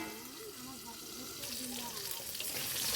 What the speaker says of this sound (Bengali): তার জন্য আমি নেড়ে নিচ্ছি পটলটাকে